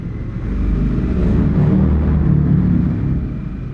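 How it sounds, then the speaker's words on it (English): Motorcycle with an aftermarket valved exhaust roaring inside a road tunnel, a deep, steady rumble that swells and holds loud throughout, with no voices. "Here we got a tunnel. There's one guy who got nice exhaust."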